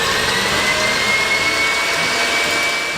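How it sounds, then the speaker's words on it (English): Electric hand mixer running on high, beating eggs, sugar and oil for dairy-free brownie batter; a steady, loud whirring motor drone holds without pause and no one talks. "we're going to turn on this mixer on high and make sure that the eggs and the sugar and the oil"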